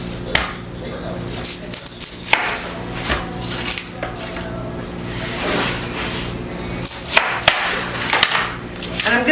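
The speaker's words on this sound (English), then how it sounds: "I'm going to use 2 onions and I'm just going to chop up" Two onions being chopped with a knife on a cutting board for a home-cooked pasta sauce, a rapid irregular series of close, crisp blade taps running throughout over a steady kitchen hum.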